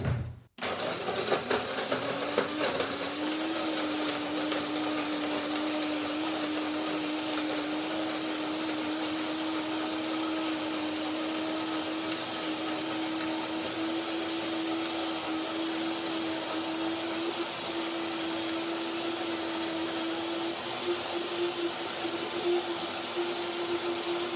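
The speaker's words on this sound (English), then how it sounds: "So blender dance, let's see." A blender whirs steadily as it purees cashew cream, starting with a short clatter and then settling into a continuous loud motor whine that holds at an even pitch to the end.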